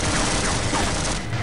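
Shotgun blasts in the Half-Life video game, a dense burst of broadband gunfire filling the moment, loud and close, with a brief quieter tail near the end and no speech.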